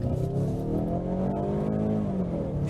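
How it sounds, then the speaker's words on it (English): A 2015 Ford Mustang with a turbocharged, direct-injected 2.3-liter four-cylinder EcoBoost engine revs hard under full throttle, a loud, steady, buzzy drone rising slightly in pitch. "flooring this thing and hearing that angry four-cylinder"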